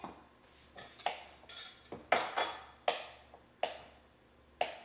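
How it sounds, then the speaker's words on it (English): Knife cutting a softened stick of butter into pieces at home, heard as a series of about eight sharp clinks and taps of blade on plate or board, spaced roughly half a second apart, fairly close with quiet room tone between. "we're gonna put 1 stick of butter in, softened. Let's cut that up in a few pieces"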